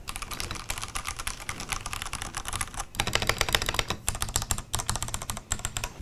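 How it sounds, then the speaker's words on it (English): Fast continuous typing on a Ducky 1.3 Pro mechanical keyboard with Cherry MX Brown switches, dense clicky keystrokes recorded up close, with a few brief pauses and no speech. "I definitely feel a bit of resistance when pressing the keys."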